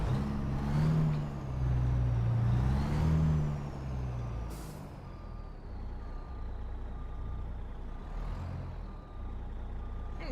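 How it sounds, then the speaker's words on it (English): In American Truck Simulator, a truck's backup sensor sends out faint, evenly spaced reversing beeps over a low engine rumble, with air brake hisses and a passing vehicle rushing by. "You can barely hear the backup sensor on this thing."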